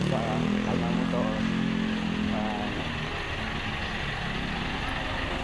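A motorcycle ride from a tricycle parking area in the rural Philippines, with a steady engine rumble and road noise throughout and brief voices in the mix.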